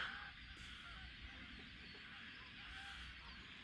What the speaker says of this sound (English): Look at all those birds.